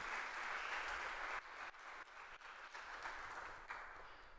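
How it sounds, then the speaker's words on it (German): An audience at an award ceremony applauds, a continuous, fairly distant wash of clapping with slight dips, heard alone without talk for a few seconds. "Ein Applaus bitte"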